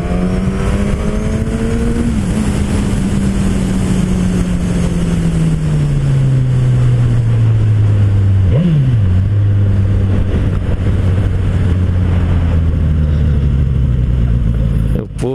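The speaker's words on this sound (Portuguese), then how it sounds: "Essa moto é bruta demais" A Suzuki Gladius 650 motorcycle engine revs loudly and close, its pitch climbing and dropping through several throttle sweeps, then settling into a lower droning run for the rest of the clip.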